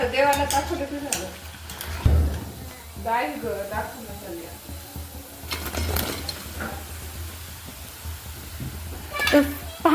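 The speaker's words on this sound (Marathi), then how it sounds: "हे पण लालसर असे तळून घ्यायचे" Dal baati dough balls frying in hot oil, reddening as they cook, give a steady close sizzle and bubbling with occasional stirring clatter, while a person talks over it intermittently.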